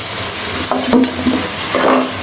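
Vegetables stir-fried with soybean oil in a wok while making paneer vegetable biryani, a steady close sizzle with a few scraping stirs and clinks of the spatula, no talking.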